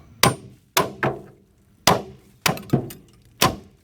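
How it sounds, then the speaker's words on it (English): Seven sharp hammer blows ring out on metal of a 1975 C20 truck at an uneven pace, each a loud clang that fades quickly. "Let me take a hammer. Whoop on it with a hammer."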